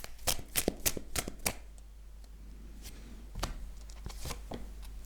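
Tarot cards shuffled by hand in quick crisp riffles and slaps, a burst of sharp snaps up front, a brief pause, then another cluster of card flicks, close and dry in a quiet room.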